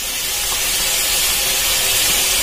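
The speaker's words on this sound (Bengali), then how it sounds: "আর আমি এদিকে বিট গাজরটা ভাজতে দিয়েছি" Beetroot and carrot fry in a pan with a loud, steady, hissing sizzle. It runs unbroken and close for the whole stretch.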